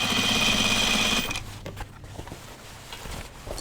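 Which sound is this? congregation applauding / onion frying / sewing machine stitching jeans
sewing machine stitching jeans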